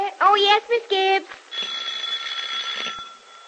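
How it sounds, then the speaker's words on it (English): A ringing bell, bright and insistent, comes in short bursts and then one longer sustained ring, up close in a quiet room. "Nora, that's the doorbell."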